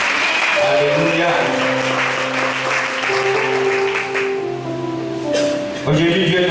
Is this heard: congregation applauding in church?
yes